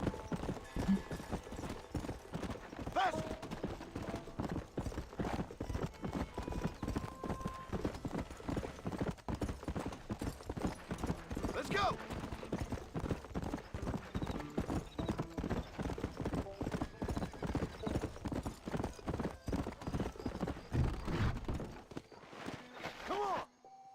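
Horse hooves clip-clop steadily through a long ride in the video game Red Dead Redemption, a continuous fast rhythmic trotting with an occasional whinny, loud and close under faint talk, stopping near the end.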